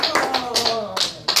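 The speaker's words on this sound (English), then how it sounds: "y'all give a round of applause." A small audience at a prison ministry gathering for ex-offenders claps in short, uneven bursts, close and moderately loud, mixed with a talking voice.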